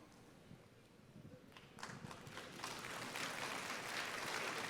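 Applause from a church congregation during a sermon, starting sparse and quiet, then swelling after a couple of seconds into steady, fuller clapping.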